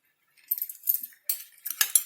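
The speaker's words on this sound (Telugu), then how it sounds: "ఇప్పుడు నేను మూత పెడతా అండి." A metal lid is set onto a cooking pot in a kitchen, giving a few close, bright clinks and rattles in two short bursts, with no talking.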